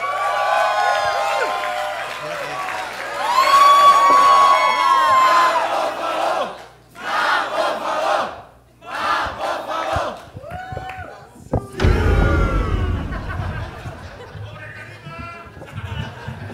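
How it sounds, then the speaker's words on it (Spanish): Crowd at a Spanish-language comedy show cheering and whooping loudly for a guest, a roaring mass of voices that dips briefly and surges again, with some shouting mixed in. "Fuerte el aplauso al tío Robert"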